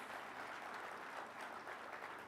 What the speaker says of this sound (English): Let's give them a better round of applause.